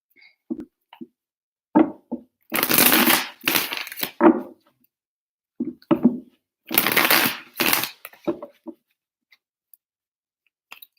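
Tarot cards being shuffled in three separate bursts of crisp riffling, close and clear, with small taps and clicks of the deck between shuffles and no talk.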